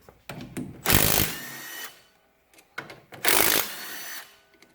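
Two 14 mm caliper bolts come off the left front brake of a Dodge Dakota with a power tool, heard as two loud, close whirring bursts about two seconds apart, each with short stutters of revving around it and a near-silent pause between.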